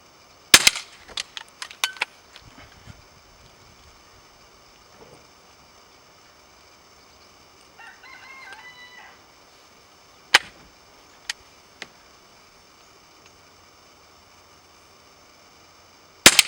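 Several sharp, snappy shots from a Beeman P17 air pistol at paper targets, a few clustered early and others spaced apart, with faint distant tree-felling machinery and quiet background noise between them.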